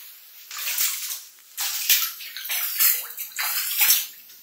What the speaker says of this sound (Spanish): se inundó la parte de adentro de la ducha y después se inundó el baño